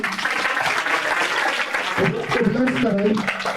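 A church congregation at a Hindi sermon claps together in a sustained, dense round of applause, with voices rising over it near the end.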